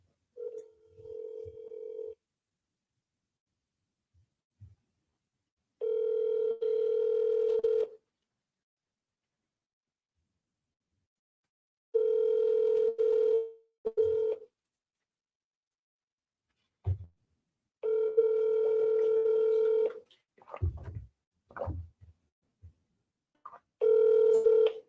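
Telephone dial tones and keypad dialing bursts during commercial real estate cold calls, several steady tone segments separated by silences and short clicks, with no talk.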